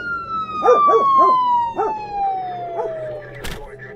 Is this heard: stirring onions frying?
no